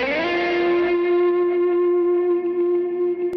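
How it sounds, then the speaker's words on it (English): An electric guitar tone runs through an Eventide H9 delay and a Nobles distortion into a Blackstar amp, one sustained distorted note ringing with rich overtones, echo and a slow decay, loud and close with no voices. "Eventide H9 delay for the effects. And then I've got a little bit more gain on the end, which is coming from a Nobles distortion"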